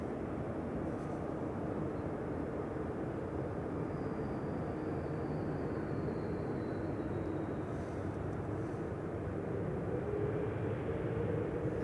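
Singapore Airlines airliner, flight 323, at Amsterdam Schiphol, its jet roar broad, steady and fairly distant, with a faint rising whine as it moves off.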